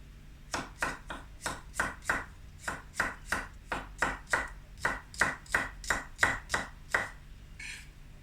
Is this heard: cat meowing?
no